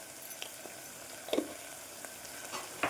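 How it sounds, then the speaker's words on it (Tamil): A soft, steady sizzle of ginger garlic paste frying in a pan, with occasional scraping stirs, close and quiet with no voices. "இப்போ அதையும் நல்லா வதக்கிக்கோங்க"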